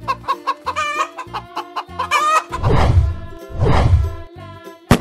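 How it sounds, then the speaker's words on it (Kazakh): A chicken clucking, a series of short rhythmic clucks followed by two longer, louder drawn-out calls, close and clear with no talk. "Әрине, тауық береді."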